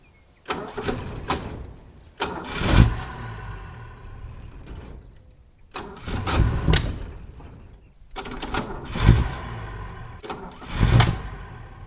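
Willys engine in a garage cranks in several separate bursts, each a churning starter rhythm rising to a brief rough catch before dying, with quiet pauses between attempts across the stretch.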